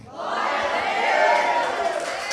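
Church congregation at a New Year service applauding and cheering together, a dense swell of clapping and shouts that rises and holds, loud and close.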